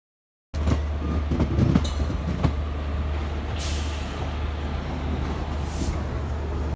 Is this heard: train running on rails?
yes